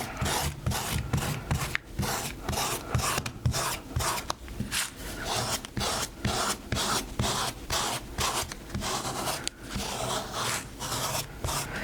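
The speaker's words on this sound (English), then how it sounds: "I'm ready to use some pickup eraser to get all of the masking fluid off" Rapid, dense rasping strokes as a pickup eraser rubs dried masking fluid off watercolor paper, close and steady, back-and-forth friction continuing throughout without voices.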